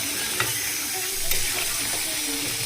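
Potatoes frying in a pan for chicken curry give off a dense, close sizzling hiss, with light stirring scrapes over a couple of seconds and no voices.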